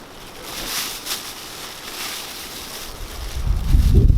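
Strong gusty wind buffets a campsite with forecast gusts up to 160 km/h, a steady roar that swells into heavy low microphone rumble toward the end.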